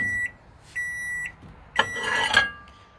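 An outdoor Hamilton Beach microwave heating water sounds three short, evenly spaced beeps to signal it has finished, followed by a clatter as the door is opened, with no talk.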